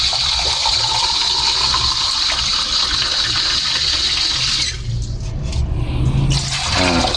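Water gushing steadily from a tap into a pot being filled for boiling noodles, a loud continuous rush that shifts in tone near the end as the flow changes.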